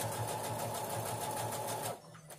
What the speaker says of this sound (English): So now I'm just going to sew over this part right here.